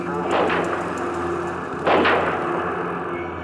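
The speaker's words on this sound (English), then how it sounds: "It was almost 12:30 p.m. as the Kennedy motorcade passed the Texas School Book Depository, and gunshots rang out." Two sharp cracks about a second and a half apart, distant gunshots at the Kennedy assassination in Dallas, over a steady hum and murmur of voices.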